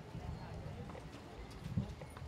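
Horses walking in a 4-H fair western show arena, hooves clopping softly in an irregular rhythm beneath an announcer's voice over the public address.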